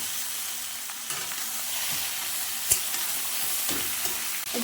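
Food being stirred in a hot frying pan, seasoned with turmeric and salt, in a home kitchen cooking a kochu (taro) stem dish: steady sizzling with a few scraping utensil knocks, close and alone without talk.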